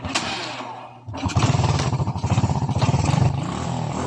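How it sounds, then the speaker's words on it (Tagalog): A Honda XRM 110 motorcycle engine that is hard to start cranks briefly, pauses, then catches and idles with a loud, rapid, steady chugging rumble close by. "try natin panandarin ng kanyang motor"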